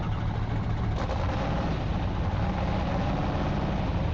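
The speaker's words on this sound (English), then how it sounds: "That is the startup of the SALEEN S7." A loud, steady engine rumble from a Saleen S7 sports car starting up in a video game, continuous and close, like a powerful car idling, with no speech over it.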